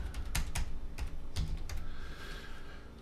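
Fingers tap out commands on a computer keyboard at a console, a quick, close run of distinct clicks with brief pauses between bursts and no talking.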